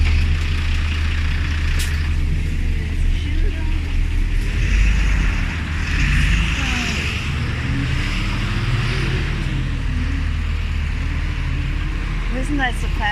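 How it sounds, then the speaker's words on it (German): A garbage truck with air brakes rumbles nearby on a street, its engine holding a constant low drone for the whole stretch, with faint hisses and traffic noise over it. "So die Müllabfuhr."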